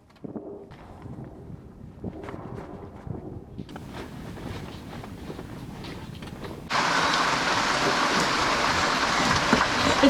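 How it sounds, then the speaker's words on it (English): Rain falls on a sailboat off the Caribbean coast of Colombia near Cartagena. It starts as light scattered patter and builds to a loud, steady hiss that is mixed with wind buffeting the microphone. "It's already raining."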